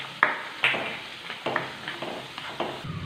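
Green chillies stirred into chicken masala frying in a pan, with a spoon scraping and tapping about five times over a soft sizzle, close and moderately loud.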